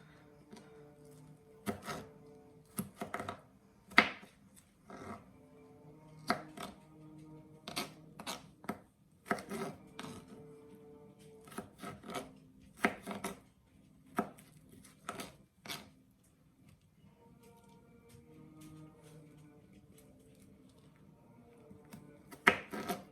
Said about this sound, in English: I'm gonna chop down these cucumbers.